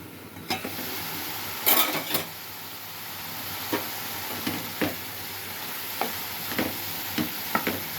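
Ginger garlic paste frying in a pan, with a steady sizzling hiss throughout and scattered clinks and scrapes of stirring heard close up.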